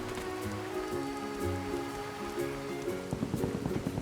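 Rain falling in the video game A Hat in Time, a steady patter spread evenly across the whole stretch, mixed with game music tones and no voices.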